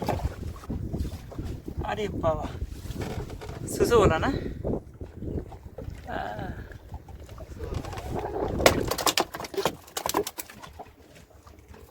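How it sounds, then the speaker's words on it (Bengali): Strong wind buffets a fishing boat out in the Sundarbans, a rough, gusty rumble of wind on the microphone heard beneath someone talking close by. "ভীষণ সমস্যা হাওয়া হচ্ছে জোরে"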